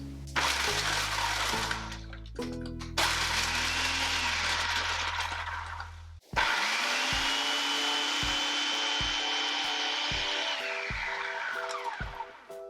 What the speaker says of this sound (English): we will place 20 Oreo cookies into a food processor. And pulse until they become fine crumbs.